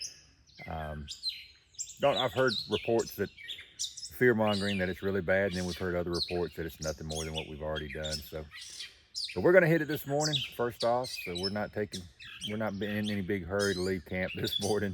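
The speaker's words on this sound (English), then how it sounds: "listening to the birds singing" Birds chirp and sing around a morning campsite on the Appalachian Trail, light calls scattered beneath a hiker's steady close talk.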